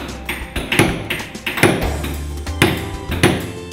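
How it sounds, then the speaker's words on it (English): Sharp wooden knocks from a hammer, struck in a loose, steady rhythm: several quick taps followed by heavier blows, close by, with no voices. "the harmonious rhythm is the sound of hammer on wood"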